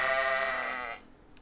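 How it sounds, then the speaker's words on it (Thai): A single sheep in the farming game Story of Seasons: Friends of Mineral Town gives one clear, near bleat lasting about a second, then it fades to quiet. "แกะกับอัลปาก้านะครับ"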